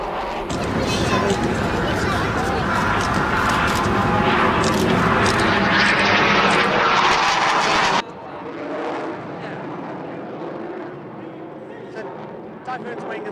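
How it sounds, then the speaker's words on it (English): Eurofighter Typhoon jet engines roar as the lead aircraft departs, a loud broadband rush that cuts off sharply partway through, leaving a quieter distant rumble with some crowd babble beneath. "Canopy's closed. Throttles are up. Engines are started. There goes the lead."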